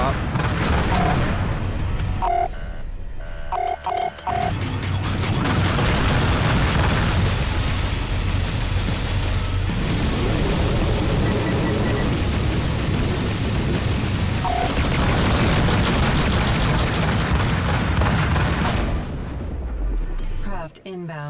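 Sustained ship gunfire and booming explosions from the space combat game Rebel Galaxy Outlaw fill the whole stretch, loud and dense, with brief lulls and voices speaking over the battle.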